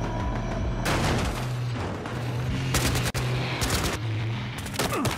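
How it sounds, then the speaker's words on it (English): A shooter video game fills the scene with dense, loud gunfire and explosion booms in rapid bursts, nearly continuous with brief pauses between volleys. "causing an explosion on this."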